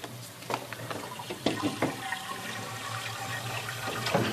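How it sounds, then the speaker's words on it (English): Sugar water pours and splashes steadily into an Italian ice machine, a continuous rushing, gurgling flow with a few louder sloshes. "And I'm going to pour that in the machine."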